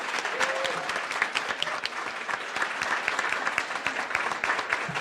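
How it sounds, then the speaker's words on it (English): An academic lecture audience claps for a panel in a continuous, moderately loud round of applause with crisp individual claps standing out, lasting throughout. "Let's give them all another round of applause."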